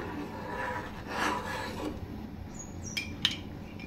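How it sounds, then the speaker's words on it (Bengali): Milk halwa being stirred with curd in a pan, soft scraping and rubbing of a spoon against the pan bottom, fairly quiet, with a few light clinks near the end. "দই দিয়ে এভাবে নাড়তে থাকবো"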